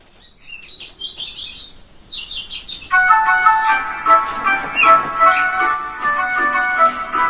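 A little bird chirps with bright, quick tweets through the first few seconds of a mixed-group kindergarten music lesson. A fuller, steady tonal sound then takes over and continues under further chirps.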